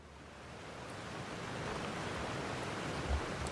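Waterfall ambience in Genshin Impact, a soft, steady broadband rush of falling water that swells slightly and stays constant, quiet and without voices.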